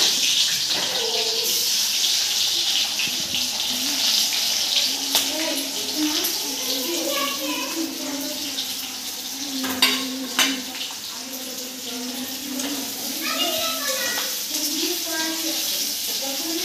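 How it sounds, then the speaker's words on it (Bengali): Onions frying in hot oil in a pan, a steady broadband hiss running throughout with occasional clinks and stirring knocks, and faint background voice. "এবার পেঁয়াজ দিয়ে দিচ্ছি এই তেলের উপরে"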